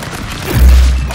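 A single loud booming gunshot from the Stick Fight video game lands about halfway through, a deep thump that lingers briefly.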